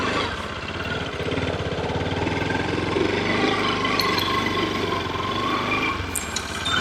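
A motorbike engine drones steadily and loudly throughout while riding toward the foothills of the Balamalai hill temple, a continuous close rumble with no pauses.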